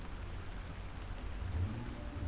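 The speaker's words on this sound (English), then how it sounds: "The rain kept slapping the windshield" Rain pelts a truck windshield in a steady, dense patter over a low rumble, with no one speaking.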